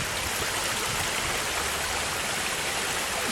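Creek water rushes steadily through a spillway where Rays Creek passes beneath the Augusta Canal, a loud, continuous broadband roar close by with no other sounds.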